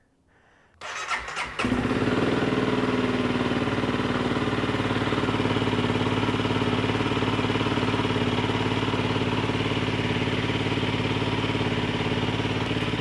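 A Honda CRF300 Rally motorcycle engine starts after a brief quiet moment, then settles into a loud, steady, even idle that runs unbroken to the end.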